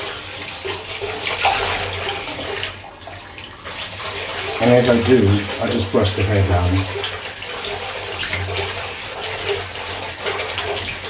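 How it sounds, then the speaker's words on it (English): Hot water running from a tap over a doll's hair, a steady hissing splash continuing throughout while someone talks over it. "sometimes I just run it under the tap"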